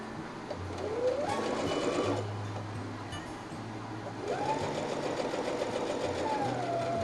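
A domestic sewing machine stitches fabric pieces for a shark-shaped pin cushion, running in two steady motorised bursts with brief pauses between, close and fairly quiet.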